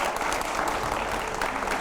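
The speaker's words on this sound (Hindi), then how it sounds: "तालियां हो जाए।" Audience applause at a political speech in India, a dense burst of clapping from a crowd, loud and steady without pause.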